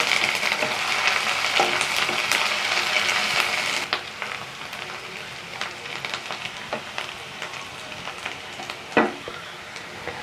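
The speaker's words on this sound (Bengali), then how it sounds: "আদা রসুনটাকে আমি আবার ভালোভাবে ভেজে নেব" Ginger garlic paste fries in a pan for chicken liver kosa, a close, bright crackling sizzle that starts loud and dense, then settles into a quieter hiss punctuated by scattered pops and occasional stirring scrapes.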